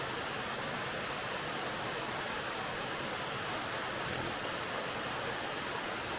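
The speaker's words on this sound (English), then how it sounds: "here we can get a good view of Nancytown Falls" Nancytown Falls in Mount Airy, Georgia, running with low water flow, gives a steady, even hiss of falling water that holds unbroken throughout, with no voices over it.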